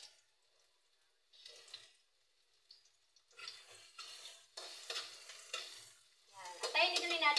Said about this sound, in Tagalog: Antayin din natin mag-golden brown yung ating bawang